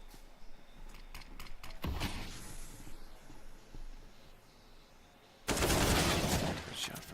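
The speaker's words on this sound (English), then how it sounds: "Shot from Dennis to find Alu." Gunfire rattles through a Counter-Strike: Global Offensive match on the Nuke map at ESL One Cologne 2017: a sharp burst, a quieter stretch of faint clicks and movement, then a louder sustained volley near the end.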